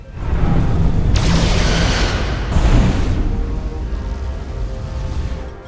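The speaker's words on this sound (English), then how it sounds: "Fire photon torpedoes!" Photon torpedoes firing in the Star Trek Resurgence game, a pair of heavy booming launches with rumbling low tails, loud and close, separated by about a second and a half amid a continuous ship ambience.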